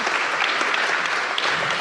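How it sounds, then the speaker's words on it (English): Dense, even applause from a conference audience at the Invest: Charlotte 2022 launch event, many hands clapping steadily at moderate distance for the whole brief stretch. "Let's give Tracy another round of applause."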